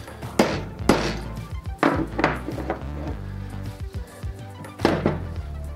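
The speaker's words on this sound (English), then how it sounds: "now I'm gonna try and flatten it out a little bit with the hammer" A hammer strikes a small piece of metal held down with pliers to flatten it, giving several sharp, close thunks at irregular intervals with quieter taps between.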